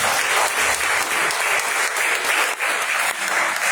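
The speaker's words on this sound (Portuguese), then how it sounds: "Dá uma salva de palmas para Jesus." Sustained applause from a church congregation, dense and steady with no voices, carrying on evenly for several seconds.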